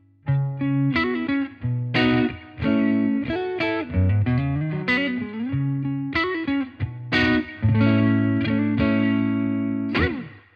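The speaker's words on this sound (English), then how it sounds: "here's the clean tone of the amp that we're going to be running the pedals into" A clean electric guitar plays chords and single-note runs with reverb from the amp, ringing clearly and alone at moderate volume.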